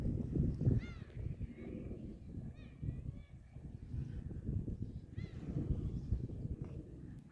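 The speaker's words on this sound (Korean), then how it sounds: "갈매기 소리." Several seagulls cry overhead in a series of sharp, rising and falling calls, moderately near, over a low outdoor rumble.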